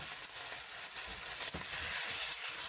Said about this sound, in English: the bacon is going to make its own fat to cook the onions in